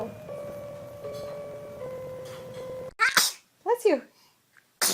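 A baby sneezes, with a few sharp bursts following a stretch of steady tonal background sound.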